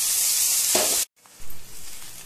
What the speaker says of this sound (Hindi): उतना ही हमें तेल में जीरा फ्राई करना है। इस स्टेज पे हम थोड़ा सा लाल मिर्च पाउडर डाल देंगे।